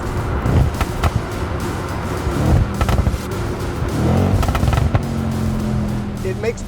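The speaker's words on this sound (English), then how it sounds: "it makes poppity pops on the overrun." 2021 Audi RS7 with twin-turbo V8 on overrun while downshifting, giving a rapid run of crackling pops and bangs over the engine's rumble, loud and close, with a voice talking over parts of it.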